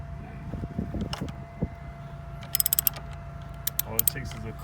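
A wrench cranks loose a car battery terminal on a Honda Crosstour with a few quick ratcheting clicks. Softer metallic knocks and handling noises come before them, close by and fairly quiet.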